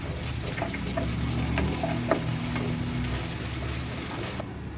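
Ginger garlic paste and onions sauté in a hot pan for a crab masala, sizzling and frying steadily with occasional stirring clicks, close and continuous with no talk.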